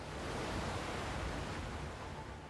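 Steady broadband rush of a waterfall in the video game Fate/Grand Order, a constant wash of roaring water with no breaks, heard alone at a low, even level.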